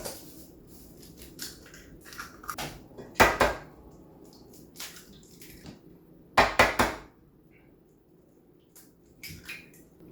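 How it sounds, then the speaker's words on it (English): Three eggs are cracked open for a pork chop egg wash, sharp close taps and cracks in a few separated bursts with quiet handling sounds between. "Let's crack these open."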